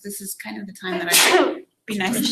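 A person talks during a panel discussion, then breaks into a sudden forceful sneeze, after which talking resumes.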